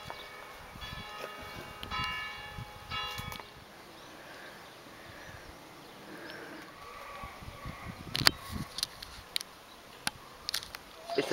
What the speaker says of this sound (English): That's the church bell.